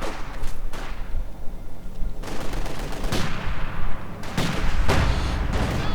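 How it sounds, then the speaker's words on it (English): Battle gunfire in the strategy game Company of Heroes 2 as a Panzer IV opens up on Guards Infantry: bursts of rattling machine-gun fire and heavy booming shots in rapid clusters, loud and dense, with no talking. "Panzer IV opening up the Guards Infantry"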